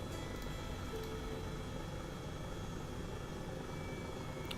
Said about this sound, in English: Helicopter sounds good for you guys?